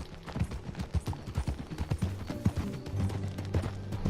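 Horse hooves clip-clop at a steady ride pace in Red Dead Redemption 2, a continuous rhythmic beat of strikes close by over a low game soundscape, with no talk.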